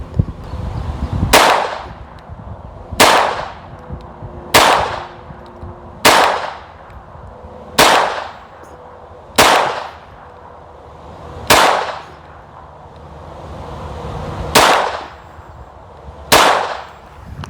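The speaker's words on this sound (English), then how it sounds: "Okay, 10 shots," A Glock pistol fitted with an Advantage Arms .22LR conversion fires ten loud, sharp shots at a steady slow pace, each a crisp crack with a short echoing tail, one slightly longer pause near the end.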